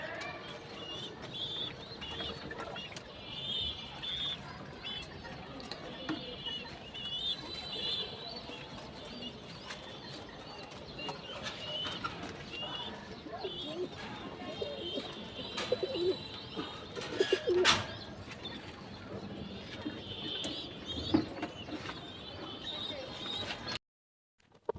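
Black shorting pigeons coo repeatedly in a loft, soft rolling calls rising and falling over about twenty-five seconds, with occasional wing flutters and people chatting nearby.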